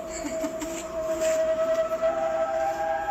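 A steady, sustained siren tone drones in the distance over low background rumble.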